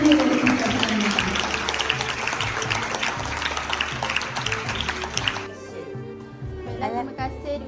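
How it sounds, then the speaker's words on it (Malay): Audience applause at a closing ceremony fills most of the moment as a loud, steady roar of many hands over music, then fades into quieter sound with a voice. "Bagi satu tepukan yang benar-benar gemuruh"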